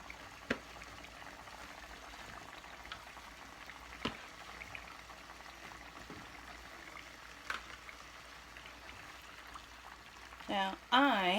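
Chicken thighs sauteing in a pan, a faint steady sizzle with occasional small pops and clicks, quiet and close, with a brief louder voice-like burst at the very end.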